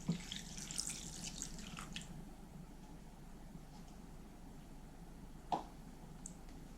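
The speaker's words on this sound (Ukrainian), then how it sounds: "Заливаю цукор та дріжджі молочком тепленьким." Warm milk poured onto sugar and yeast in a bowl while making vanilla buns, a faint, steady liquid trickle with a brief clink partway through.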